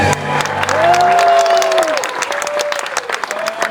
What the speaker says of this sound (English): let's hear it for Allie, Liz, and Abby